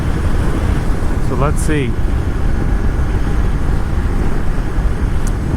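Continuous loud road rumble and wind noise from inside a car driving through the suburbs of McKinney, Texas, steady throughout, with someone talking briefly over it.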